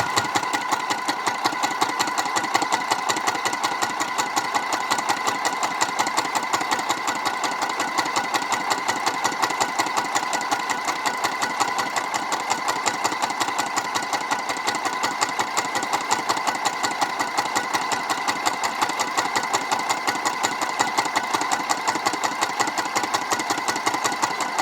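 A sewing machine stitches continuously in a crafting session, a steady, fairly loud motor whir with a fast, even needle rhythm that holds unbroken throughout, with no voices.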